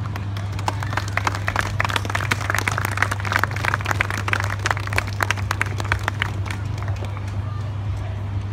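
An Armed Forces Day crowd at Winton Park claps steadily and continuously, dense applause with a low hum underneath, sustained for the whole stretch.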